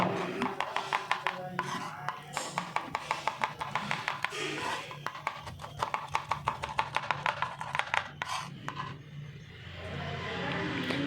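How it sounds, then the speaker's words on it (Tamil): Knife chopping green chillies on a board, a fast run of close, crisp regular taps that pauses briefly and resumes, moderately loud with light background noise. "மிளகாய் பச்சை மிளகாய் கட் பண்ணி எடுத்துக்கிறோம்"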